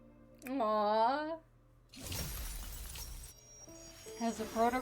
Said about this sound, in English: As the protocore cluster shatters, a distant tremor ripples through the air